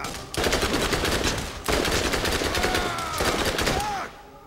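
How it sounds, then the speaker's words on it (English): Submachine gun fire in the video game Borderlands: rapid bursts of automatic shots in two long volleys, loud and close, with a brief gap between them and a whooshing sweep near the end before the firing stops. "I just got the submachine gun"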